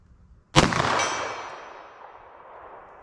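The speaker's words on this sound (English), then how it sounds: "9mm, fire slow, really try to hit this target" A single sharp 9mm pistol shot fired at a target on a range, loud and close, followed by a long fading echo.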